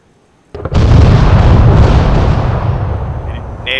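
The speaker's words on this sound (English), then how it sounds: "So now I'm doing a missile run, or a rocket run, I'm not sure which it's going to be." Missile or rocket run in the ArmA 3 video game: after a faint quiet start, a sudden loud blast opens into a sustained roaring, rumbling explosion that slowly decays, with small pops near the end.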